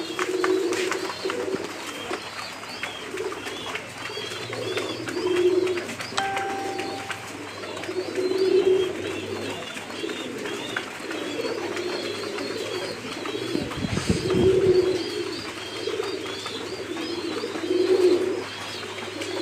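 Pigeons cooing while eating grit, repeated low rolling coos at steady intervals from nearby birds, with a faint steady hum and a brief louder rustle midway.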